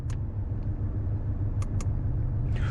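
A Porsche Cayman 718 four-cylinder engine idles with a steady low rumble from the rear exhaust, close and continuous, with a few faint clicks and a brief hiss near the end.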